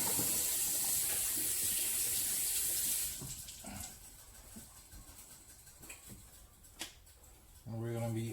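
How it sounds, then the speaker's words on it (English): Running tap water gushes loudly for a few seconds while hands are washed, then stops, leaving quiet handling noises and a brief clatter at the end. "Let me go ahead and wash my hands."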